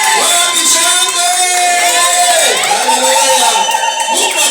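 Church congregation cheering and shouting in a loud, continuous wash of voices, with excited calls rising above the crowd throughout.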